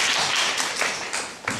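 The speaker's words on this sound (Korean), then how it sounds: "박수." A small group claps briskly at a student presentation on Korean unification, dense overlapping hand claps filling the whole moment with no talking.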